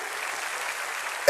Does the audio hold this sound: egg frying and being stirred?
no